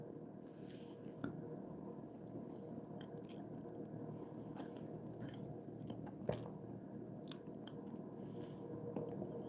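Someone eats ravioli up close, producing soft wet chewing and occasional bites and clicks over a steady low background hum, quiet and continuous.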